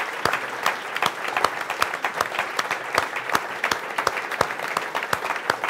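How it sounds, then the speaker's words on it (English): Scattered clapping from a modest crowd, with distinct individual claps standing out in a loose, uneven rhythm. "let's give a really great round of applause to Saul and his team."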